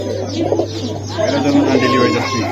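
Pigeons, including racer and local breeds, coo close by at a pigeon sale with soft, rolling calls that overlap and continue throughout, over a low steady hum.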